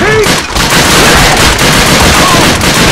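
Dense, loud machine-gun fire and explosions in the Call of Duty: Finest Hour shooter game, a continuous roar of rapid bursts and booms with a shouting voice mixed in.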